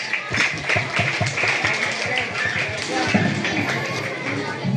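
A crowd claps in a dense, steady patter of applause at a school Independence Day event, lasting the whole stretch, with some voices mixed in.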